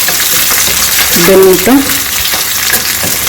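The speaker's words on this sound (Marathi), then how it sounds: "कांदा टाकून घ्यायचा आहे झालं छान परतून घ्यायचं आहे दोन मिनटं" Onions sauté in a pan for kaara chutney, giving a loud, steady sizzle close up, briefly overlaid by a short tonal, voice-like sound.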